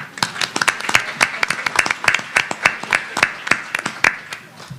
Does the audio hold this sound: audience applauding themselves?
yes